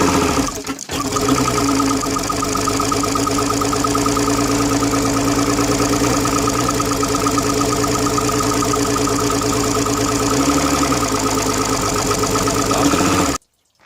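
A Mercury 135 OptiMax outboard runs continuously and loud with cylinder 1 dropping out, a busy buzzing drone with a rapid mechanical rattle, cutting off abruptly at the end.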